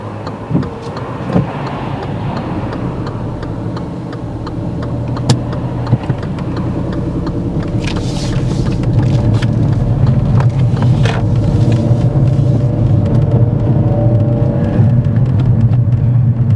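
A car engine hums and rumbles steadily through a right turn on a driving test, a low continuous drone that swells slightly louder in the second half, with a few faint clicks and no talk.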